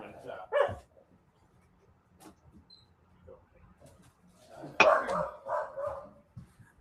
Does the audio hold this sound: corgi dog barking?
yes